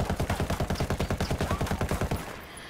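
A Mark 17 rifle in Ghost Recon Wildlands fires a fast steady string of about two dozen loud, close shots at a wall, ending in a short fading tail.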